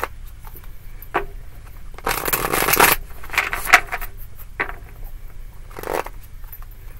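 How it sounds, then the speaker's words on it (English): A deck of tarot cards being shuffled close by, several short riffling bursts separated by quiet pauses. "So, a couple more shuffles and we're going to get it on the table for Cancer."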